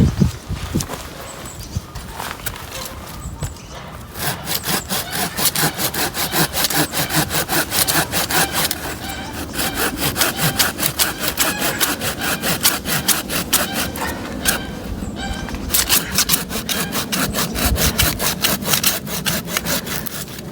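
A pruning saw cuts through a Buddleja davidii stump with steady, rapid back-and-forth strokes of the blade in the wood, loud and close, lasting the whole stretch with no talk.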